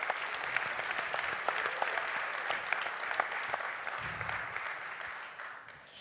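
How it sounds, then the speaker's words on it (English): An audience at a Connecticut Sun basketball town hall applauds the team's head coach and general manager, a sustained wash of many hands clapping at moderate distance that tapers off slightly toward the end. "Round of applause."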